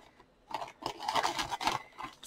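Scissors snipping through the top of a mail package holding yarn, a close run of crisp cuts and scratchy rustles in quick succession, with no talking.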